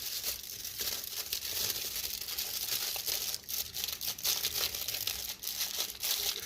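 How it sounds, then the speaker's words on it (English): Foil paper crinkles and crumples continuously as its edges are folded over around a plantain pudding, close up and fairly quiet, with short pauses between the folds and no talk. "you got it in the foil paper, and then you fold it, the edges."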